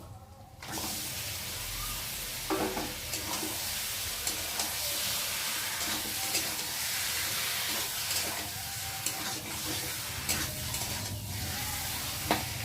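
Chicken pieces hit spice masala already fried in oil, setting off a loud, dense sizzle that hisses on steadily, with occasional scraping stirs against the pan close up and no talking.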